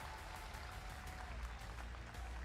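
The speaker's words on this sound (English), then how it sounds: "Yeah, we want to cheer for that one, everyone. A big cheer." A crowd at an Apex Legends ALGS watch party applauds steadily, a dense and even wash of clapping that holds for the whole stretch, distant and fairly quiet.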